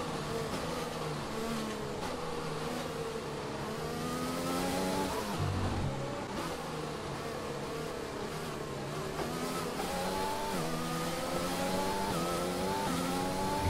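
A Ferrari Formula 1 car in the F1 2020 video game revs loudly and continuously, its engine pitch climbing and dropping through gear changes for the whole stretch, with no talk over it.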